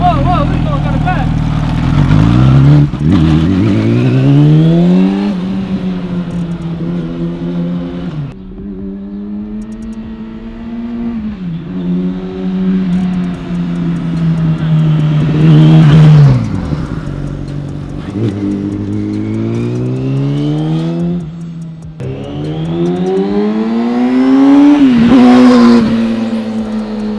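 A Yamaha R6 sport motorcycle pulls away slowly in first gear as the clutch is let out, its engine note rising and falling loudly and close through repeated surges, with a voice talking over it.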